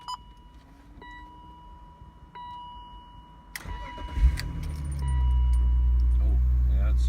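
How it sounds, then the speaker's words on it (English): An old BMW Z3's engine starting: a few quiet clicks and key sounds, then the starter cranks and the engine catches, settling into a loud steady idle. "So I'll just start the car and get it all going."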